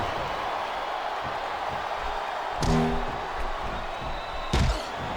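Wrestling arena crowd in WWE SmackDown vs. Raw cheers as a steady, dense roar, swelling in two brief louder bursts, with commentators' voices faintly under it.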